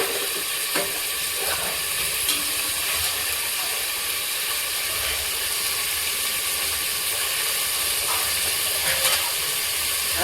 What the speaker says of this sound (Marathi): ही फोडणीला मटण टाकते